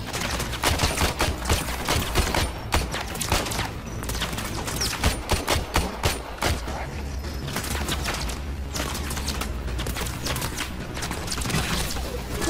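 Rapid bursts of gunfire crackle continuously in the game Warframe, with dense overlapping shots and louder volleys, steady and close throughout.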